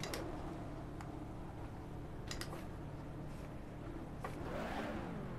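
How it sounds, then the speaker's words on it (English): An F1 car attempting a standing burnout in BeamNG.drive: a steady engine drone with scattered ticks and clicks, then a sharp rising rev that swells loud at the end. "can I do a standing burnout?"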